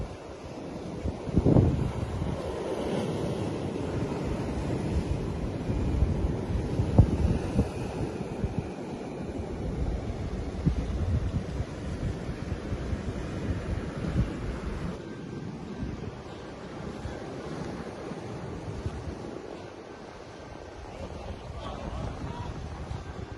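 Ocean waves wash steadily onto a beach in a continuous roaring surf, mixed with heavy wind buffeting the microphone and a few louder gusts, with no clear voices.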